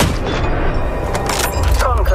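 Gunfire bursts from a sniper rifle in the mobile game Hitman Sniper, booming reports layered over game ambience and sound effects, heard closely over a couple of seconds.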